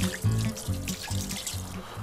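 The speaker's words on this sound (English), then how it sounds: "Just put the rice and see how much water I put." Water running from a tap into a pot for cooking rice in a kitchen, an uneven pouring and trickling sound with rhythmic low pulses, close and fairly loud with no talking.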